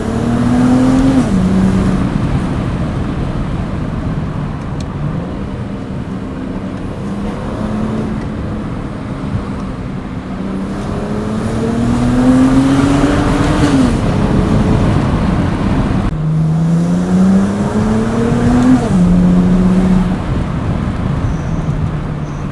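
A BMW 135i with the N54 engine drives hard through a mountain pass with the windows down, the engine note rising through the gears in repeated climbs, loud and close from inside the car.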